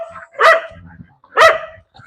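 A dog on a Kerala farm gives two loud, sharp barks about a second apart, close by, with quiet gaps in between.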